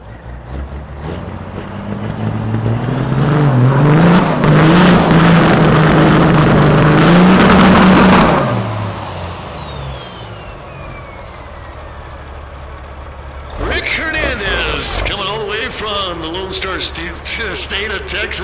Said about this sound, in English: One of the best burnouts of the day, regardless of pickup trucks and big rigs.